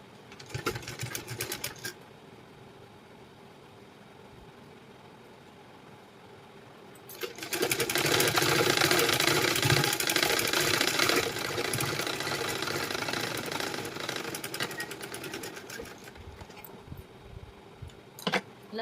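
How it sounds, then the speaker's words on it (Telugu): A sewing machine stitches a blouse lining, with short bursts at first, a quieter pause, then a long, loud, steady run of rapid stitching close by that tapers into brief bursts near the end. "ఒక పావు ఇంచ్ గ్యాప్లో స్టిచ్చింగ్ అయితే చివరి వరకు వేసుకొని రండి"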